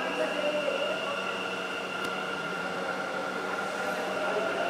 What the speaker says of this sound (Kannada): ಹಳದಿ ಮಾರ್ಗದಲ್ಲಿ ಮೆಟ್ರೋ ಸಂಚಾರ ಶುರುವಾಗಿದೆ